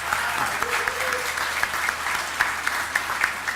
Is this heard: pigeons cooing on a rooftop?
no